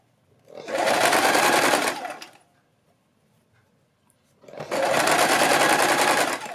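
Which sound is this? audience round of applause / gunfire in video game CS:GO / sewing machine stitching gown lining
sewing machine stitching gown lining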